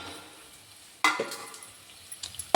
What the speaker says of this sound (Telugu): మళ్ళీ నూనెలోనూ ఉప్పు కారం పడుతుంది, వేగించున్నాను